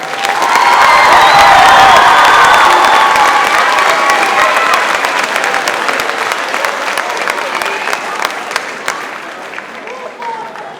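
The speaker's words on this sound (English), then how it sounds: "One more round of applause for our graduates." Loud, dense audience applause with cheering fills a middle school eighth-grade promotion ceremony for the graduates, swelling early and then tapering gradually toward the end as scattered claps remain.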